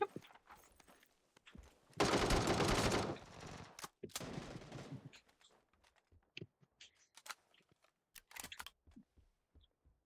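Gunfire in the PUBG Battlegrounds video game: a loud sustained burst of automatic fire, then another shorter volley, followed by scattered single shots and clicks, some sounding distant.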